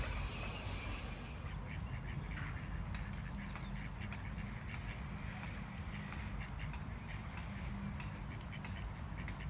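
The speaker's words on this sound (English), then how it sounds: "The ducks and a swan." Several ducks quacking in a steady, busy chorus outdoors by water at Warwick Racecourse campsite, fairly distant with constant background noise and no one talking.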